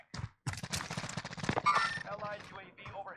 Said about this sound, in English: Somebody else shooting at his ass.